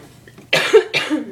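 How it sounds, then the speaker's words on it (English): Two harsh coughs from a person, close and fairly loud, the second following about half a second after the first, with quiet room sound before them. "Sorry, I keep coughing."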